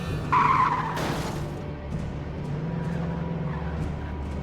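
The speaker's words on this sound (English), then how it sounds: "me slamming my car around because physics is broken in Alan Wake" Car skidding and slamming around in the video game Alan Wake, with a sharp tire screech near the start over a steady engine drone that keeps running throughout.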